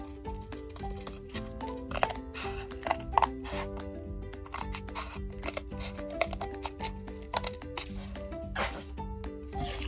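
Scissors snipping out small paper covers for miniature instruction booklets, a quiet close series of crisp cuts and paper rustles with a light irregular rhythm throughout.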